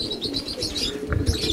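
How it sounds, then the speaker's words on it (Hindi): Highflyer pigeons at a loft cooing and chirping softly, a cluster of short repeated calls nearby with faint bird movement in between. "क्या कमाल के कबूतर हैं माशाल्लाह से"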